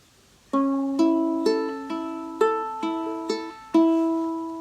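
Plucked ukulele notes from a measure of Dionisio Aguado's Estudio ring out one after another at a steady, moderate pace, each decaying gently, forming a short melodic measure.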